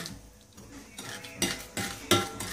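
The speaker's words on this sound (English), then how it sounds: "So gently get a spoon or a spatula and push it down." A spoon or spatula scraping creamed butter and sugar down the sides of a mixing bowl for a cake, soft intermittent scrapes and clinks that grow louder over a few strokes.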